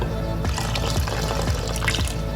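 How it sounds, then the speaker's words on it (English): Soaking liquid from dried shrimp poured into sticky rice makes a close, steady trickle and splash that runs continuously for a couple of seconds, alone without talk. "You want to add some of the liquid from the dried shrimp."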